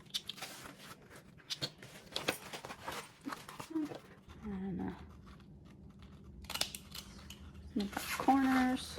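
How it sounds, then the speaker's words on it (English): Scissors snip the corners of a sewn fabric panel in a quilting project, giving several short crisp cuts, close and moderately quiet, interspersed with handling noise and a voice speaking in the background. "Snip our corners."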